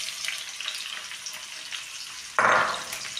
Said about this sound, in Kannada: ಆ ಗೋಬಿನ ಸ್ವಲ್ಪ ಫ್ರೈ ಮಾಡ್ಕೋಬೇಕು